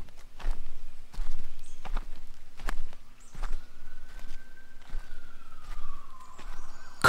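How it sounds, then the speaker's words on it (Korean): A loud siren wails in a long rising and falling tone along a street, with footsteps and clopping steps striking steadily underneath it and no talk. "시끄러운 사이렌 소리와 동시에"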